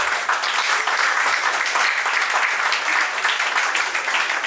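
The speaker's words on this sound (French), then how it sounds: "Alors je vais vous demander maintenant d'applaudir pour Scotty qui va faire son entrée." Dense, loud applause from an evening show audience, continuous crowd clapping filling the space without pause.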